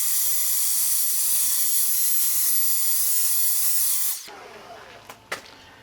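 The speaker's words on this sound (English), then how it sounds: "to help blow dry the lens before you put the clear coat on, I'm going to use my blower" A cordless blower blasts steady air over a Toyota Highlander headlight lens for about four seconds, a loud continuous hiss that cuts off abruptly, followed by a few faint clicks and small knocks.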